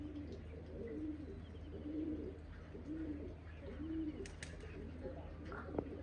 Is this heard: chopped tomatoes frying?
no